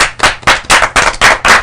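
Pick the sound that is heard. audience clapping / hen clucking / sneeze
audience clapping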